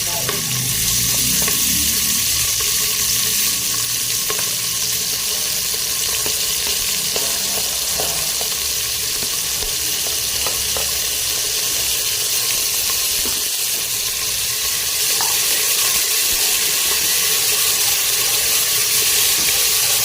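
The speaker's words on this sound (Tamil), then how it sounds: "வெங்காயம் வதங்கிடுச்சு" Onions frying in a pan for a hotel-style vadacurry, a loud, dense, continuous sizzle and crackle close up, with faint occasional stirring clicks throughout, no voices.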